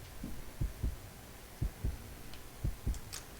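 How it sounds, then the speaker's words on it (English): Heartbeat sound effect from the Combat Arms shooter on an oil rig map: deep, muffled lub-dub thumps in paired beats, repeating three times at a steady rhythm, close and clear. "because I'm making annoying heartbeat noises, I might as well blow up on my own mines, right?"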